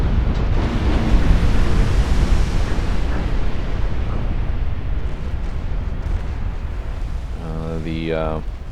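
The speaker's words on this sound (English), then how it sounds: "San Juan has exploded" A warship blows up during a naval battle in a video game, heard as a loud, sustained rumbling blast with a broad roar throughout, and a brief tonal sound near the end.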